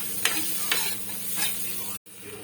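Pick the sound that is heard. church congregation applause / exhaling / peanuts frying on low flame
peanuts frying on low flame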